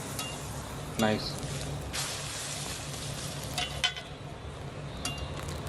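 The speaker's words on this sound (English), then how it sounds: "Butter, adding toast, roasting toast." Toast browning in butter on a flat griddle at a Korean street food stall, a steady sizzle under the scrape and clink of a spatula, with a short burst of nearby talk.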